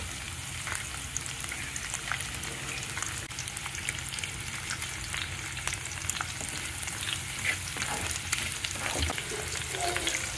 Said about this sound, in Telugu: ఉల్లిపాయ ఇంకా వేగాలండి.